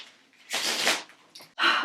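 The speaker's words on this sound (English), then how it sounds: "I'm just gonna give it one more shuffle for good measure." A deck of playing cards gets a quick final shuffle, two short riffling bursts of fluttering card edges, close and alone.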